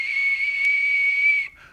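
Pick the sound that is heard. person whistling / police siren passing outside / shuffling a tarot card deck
person whistling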